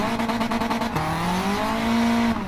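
A turbocharged car engine in Gran Turismo revs and climbs hard through the gears, its pitch dropping at each shift before rising again, close and loud.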